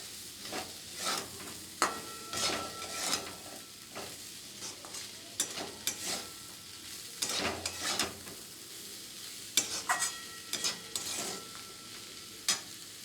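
Flattened rice pulao with sugar stirred in a pan by a spoon, giving a quiet, irregular series of scraping strokes over a faint sizzle.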